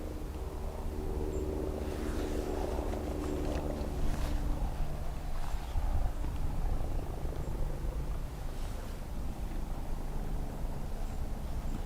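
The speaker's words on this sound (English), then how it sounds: "There's a helicopter somewhere." A low, steady rotor drone of a helicopter somewhere nearby, rumbling continuously with faint outdoor noise and no talk.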